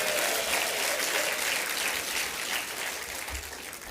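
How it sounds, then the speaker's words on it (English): Audience applause fills a large gathering hall, steady and dense clapping that holds at full strength before easing slightly toward the end. "Give yourselves a round of applause."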